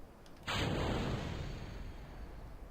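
A sudden loud explosion in the video game Kerbal Space Program bursts in and then rumbles and decays slowly, a single sustained blast with no talk over it.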